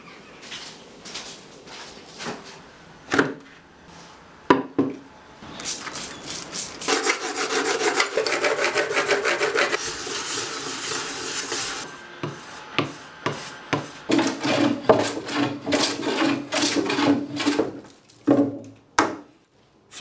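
A hand plane works across the top of a 2x4 workbench, raising wood shavings in long rasping strokes. Short separate scrapes come first, then a sustained run of steady passes, then quicker choppy strokes. It is close and loud, with no talk.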